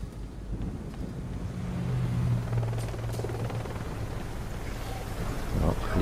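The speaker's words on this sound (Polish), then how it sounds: "helikopter. Gwardia Narodowa." A National Guard helicopter passes in the video game Deadlight, a low droning rotor rumble that swells and fades over several seconds, mixed with gusty wind-like noise and no voices.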